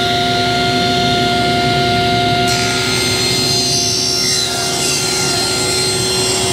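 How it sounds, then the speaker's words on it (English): Table saw ripping boards in a workshop, a loud steady whine of the running blade with a continuous rough cutting roar, the pitch and texture shifting partway through as the cut changes. "So let's go ahead and rip these real quick."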